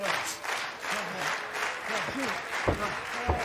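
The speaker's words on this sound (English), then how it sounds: "Crowd rallying behind Fletcher here." A pro wrestling crowd cheers and applauds at a Ring of Honor match between Kyle Fletcher and Christopher Daniels, a broad sustained roar under a commentator's voice with a few sharp thuds from the ring.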